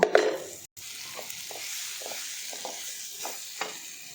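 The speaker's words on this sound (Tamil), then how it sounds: "மசாலாத்தூளை நல்லா எண்ணெயிலே நல்லா ஃப்ரை ஆகிற அளவுக்கு நல்லா வதக்கி எடுத்து வச்சுக்கணும்" Masala spice powder frying in oil as a fish curry is cooked, a steady close sizzle broken by repeated scraping strokes of a spoon stirring the pan, with no talking.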